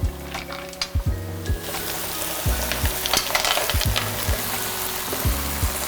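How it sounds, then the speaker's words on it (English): Mussels go into a hot pan of nearly reduced wine for cioppino, a loud steady sizzle close by, with knocks and scraping clatter as the shellfish land and shift in the pan. "I want that wine to reduce till it's nearly gone. So I'm gonna go ahead and add my mussels."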